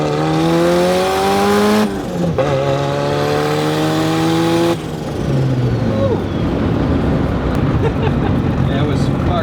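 A turbocharged car with its boost turned up accelerates hard, the engine note climbing through two gear changes with brief dips between, then settling into a rough, loud roar.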